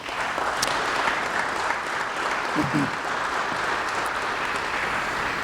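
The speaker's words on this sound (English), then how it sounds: "Give yourselves a round of applause, please." Steady applause from an audience at a Wayne State Hall of Fame induction ceremony, continuous and moderately distant, with a brief voice surfacing partway through.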